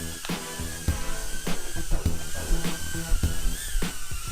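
The tiny motors of a Furibee F36 Tiny Whoop FPV quadcopter carrying a camera whine in flight, a thin high buzz that wavers in pitch, over repeated low thumps and knocks close by.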